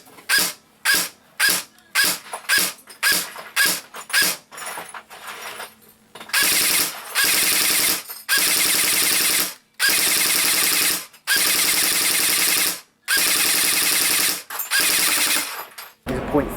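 A G&G PCC45 SMG-style airsoft electric gun fires at an outdoor range, first in a quick string of short sharp bursts, then in several long sustained full-auto strings separated by brief pauses, loud and close.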